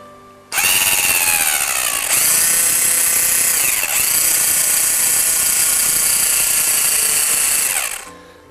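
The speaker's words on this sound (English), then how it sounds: "use your electric grinder to grind the part" Electric grinder grinding excess metal off a lock part, a loud, continuous high-pitched whine that starts abruptly and runs for about eight seconds with slight shifts in pitch as it bites into the metal.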